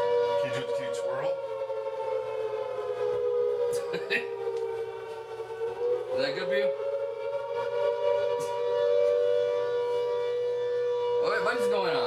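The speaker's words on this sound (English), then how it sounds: "A siren." A steady, wailing siren holds a sustained tone throughout, with a few short bursts of talk over it.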